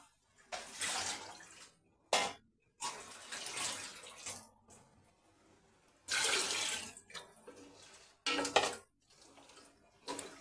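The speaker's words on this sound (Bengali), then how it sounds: "এবার আমি পানিটা দিয়ে দিলাম" Water pours in several bursts into a cooking pot of fried rice for khichuri, splashing and gurgling up close, with short pauses and a few clinks of cookware between pours.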